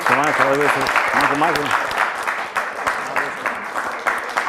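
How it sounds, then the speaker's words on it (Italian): Studio audience applause on an Italian quiz show, Spilimbergo versus Dignano, breaking out as a host's voice speaks over the opening seconds, then continuing as a dense, steady clatter of many hands to the end. "fatemi un applauso, bravi"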